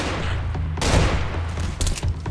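Gunfire in Garry's Mod DarkRP during a SWAT raid, a dense fusillade of game gunshots crackling loudly across the whole stretch, with a heavier burst near the middle and another toward the end.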